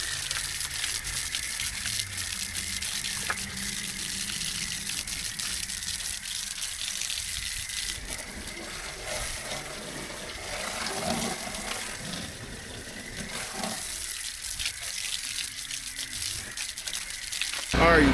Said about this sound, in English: we're just gonna take the hose to rinse these down